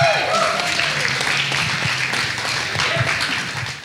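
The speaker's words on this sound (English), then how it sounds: "So let's give Michael a big round of applause." Wedding guests at an evening reception give the best man a warm round of applause, a dense steady clapping that fills the room for several seconds with some crowd noise mixed in.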